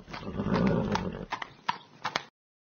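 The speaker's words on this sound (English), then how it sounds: "Many horses are trotting by." A group of horses trots past, a dense patter of hooves that swells, then thins into a few separate clops before cutting off.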